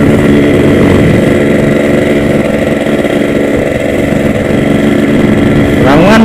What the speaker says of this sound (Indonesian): Enak lah, enak didengar, bukan enak dimakan. Mana bisa dimakan suara knalpot.